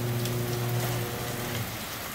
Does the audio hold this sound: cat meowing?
no